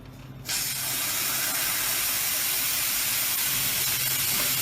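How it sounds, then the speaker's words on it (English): An espresso machine's steam wand purges excess steam and water, a loud steady hiss bursting on after a brief quiet start and holding constant close by. "you need to turn the steam one on for about 10 seconds, let all that excess steam and water come out"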